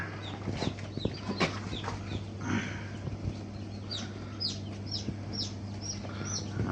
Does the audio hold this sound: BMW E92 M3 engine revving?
no